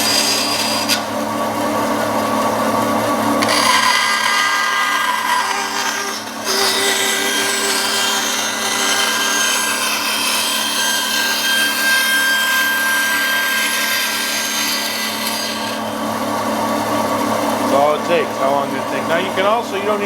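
A bandsaw cuts the foot of a wooden push stick, its steady running hum interrupted by harsher, louder cutting passes, with a person talking over it toward the end.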